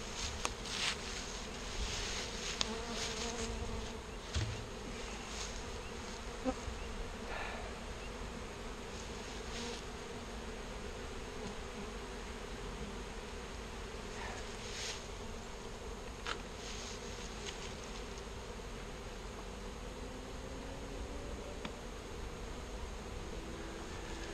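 Honey bees buzz densely around an open hive while a queen is handled, a continuous steady drone of many insects close by with occasional louder passes near the microphone, no voices.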